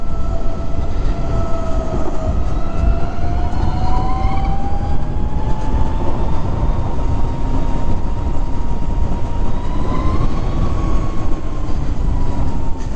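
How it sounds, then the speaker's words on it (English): Steady, loud rush of wind buffeting past a rider at higher speed on a 2020 Harley-Davidson LiveWire electric motorcycle in San Francisco, a broadband roar with a faint whining tone gliding underneath and no engine sound. "when you get up to the higher speeds, what you're gonna hear is the wind and not the bike."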